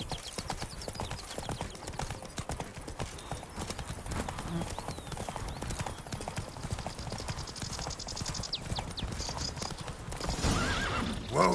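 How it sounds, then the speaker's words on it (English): Horse in The Witcher 3: Wild Hunt, with rapid continuous hoofbeats close by and a whinny near the end, under game sound. "Whoa there, Roach"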